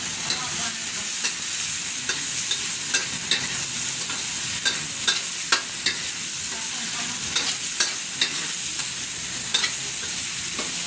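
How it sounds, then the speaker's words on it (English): Paneer stir-fried in a pan for chilli paneer, a continuous crackling sizzle broken by sharp repeated clacks of tongs or utensil flipping the pieces, close and busy with no voices. "while he's stir frying"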